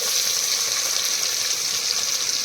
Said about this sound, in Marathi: हे बघा असं फ्राय करायचं आहे